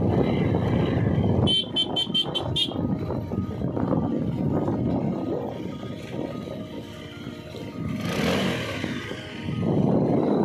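A motorbike riding along a mountain road through pine forest in the Uttarakhand hills, with a steady, loud, rough rumble of engine and wind noise that runs throughout and dips briefly midway.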